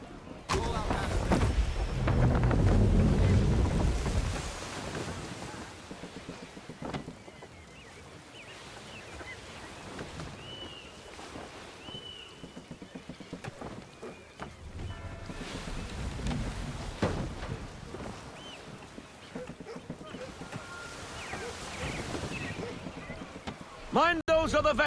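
A sailing ship from Assassin's Creed III moves through shallow water, with a steady wash of water and wind along the hull and creaking timbers. Talk and game voices run over it from start to finish.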